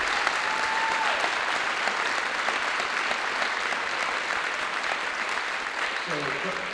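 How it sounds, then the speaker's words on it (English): An audience at a high school signing day ceremony claps in a full, sustained round of applause, loud and even, with a few voices and cheers mixed in near the end. "Let's give these ladies and gentlemen a round of applause"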